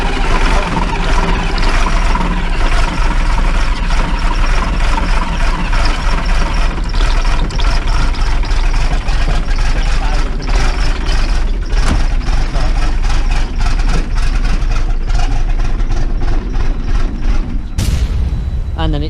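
Vehicle engine idling with a loud, continuous low rumble and irregular knocks, then cutting out near the end with a sudden change as it stalls; the engine has fueling problems.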